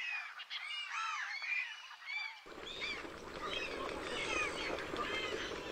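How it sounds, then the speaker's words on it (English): Dalmatian pelicans and other birds at Lake Kerkini in northern Greece, a busy chorus of honking, squawking calls, faint and distant at first, then set against a low rumbling background. "there's a lake called Lake Kerkini, inhabited by birds"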